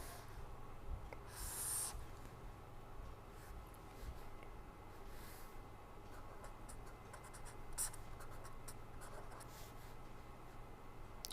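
Hand drawing during a lecture on rotor systems and bearings, with steady soft scratching and pen strokes running throughout, faint against a low constant hum, with a couple of slightly louder strokes.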